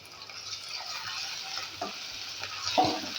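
Ginger, garlic and green chili frying in hot oil give a steady, moderately loud sizzle with faint stirring scrapes and a sharper spatter near the end, no voices.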